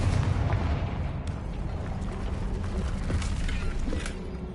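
A Confringo spell explosion in the Hogwarts Legacy video game, a rumbling blast with crackling debris that stays loud and dense before slowly tapering off.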